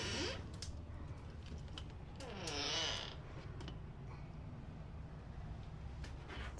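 The door of a towable Intech RV swings open with a drawn-out creak partway through, heard close against a steady background hum with no talking.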